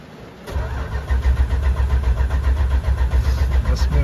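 A 1980 Chrysler Cordoba LS engine, flooded, cranks and catches after a short quiet start, then churns loudly in a steady rough rumble with rhythmic pulsing that holds to the end, no voices.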